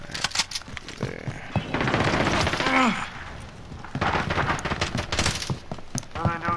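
RPK machine gun fire in the video game Modern Warfare comes in rapid bursts of sharp shots mixed with in-game effects, while a player talks over much of the action.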